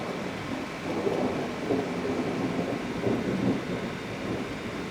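A thunderstorm over southeastern Pennsylvania rolls with low, rumbling thunder over a bed of steady rain, the rumble swelling and fading in broad waves at moderate distance.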